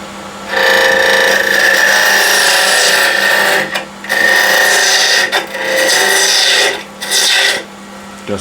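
A skew chisel shears waste wood off a spinning lathe blank for salt and pepper shakers, loud close rasping cuts in several long passes broken by short pauses, with no talk.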